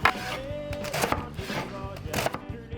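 A knife cuts a little V-shaped notch around the core of a whole cabbage on a cutting board, with several crisp, close chopping thuds and crunches in an uneven rhythm, no talking.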